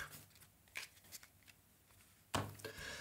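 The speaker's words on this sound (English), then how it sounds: "Got to shuffle the deck." Cards from a deck for the Flamme Rouge cycling board game with the Peloton expansion are shuffled in a solo session at a table, giving a few soft riffling bursts and a louder flurry near the end.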